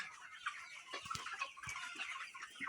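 Chickens on a poultry farm of about 3,350 birds cluck steadily in a dense flock, a busy chorus of overlapping calls with no talking, moderately close.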